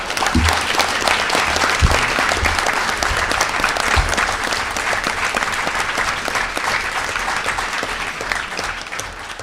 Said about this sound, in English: So I think we need to give Professor Berry a warm round of applause.